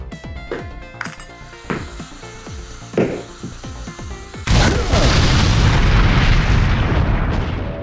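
A stock-footage explosion: a run of sharp wooden knocks and pops comes first, then a sudden loud blast whose roaring rumble holds steady for several seconds.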